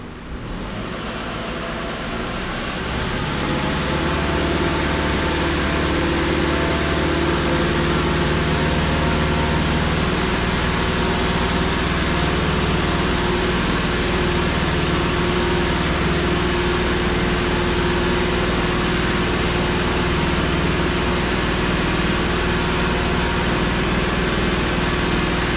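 Car engine held at raised idle around 2,000 RPM during catalytic converter and O2 sensor testing, a steady loud broadband drone with a low hum after a brief rise at the start, no talking.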